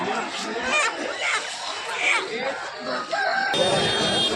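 A rooster crows amid the Gokavaram weekly poultry market near Rajahmundry, its calls rising over constant crowd chatter and nearby talking.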